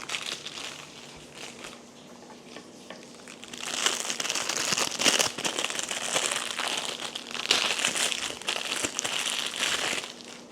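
Adhesive tape being handled and peeled in an apartment, giving crinkly, crackling rustles that start soft and grow louder and busier partway through, continuing close up with no talking.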